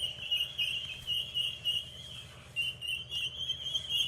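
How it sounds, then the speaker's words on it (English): Birds squabbling outdoors, with rapid overlapping high chirps and calls repeating steadily across the whole stretch at moderate distance, over a low rumble of background noise. "I don't know what the bird fight's about"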